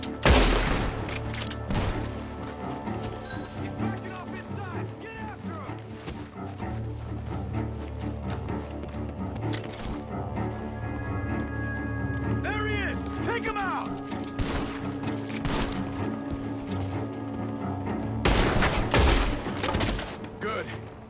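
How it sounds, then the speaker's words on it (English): Bursts of gunfire from a barn crackle through a busy scene in Red Dead Redemption 2, with a loud volley near the end, layered over music and a steady low rumble. "Gunshots are coming from that barn!"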